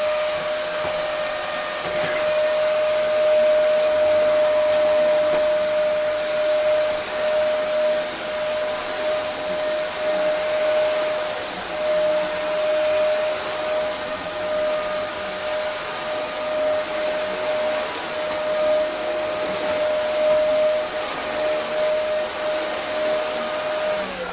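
A Dyson DC24 upright vacuum cleaner runs steadily throughout with a loud, constant high-pitched motor whine and airflow rush, no pauses or changes in pitch.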